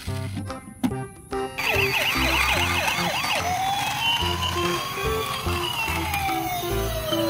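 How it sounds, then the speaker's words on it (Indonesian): A toy ambulance siren wails in a rising and falling electronic pattern, loud and close, with some clicking handling noise at the start. "Yang ini mobil ambulan."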